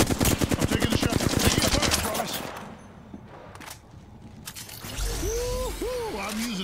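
Rapid automatic gunfire from an Apex Legends match, a fast burst of evenly spaced shots that loudly fills the first two seconds, then quieter game ambience and rising sweeping tones.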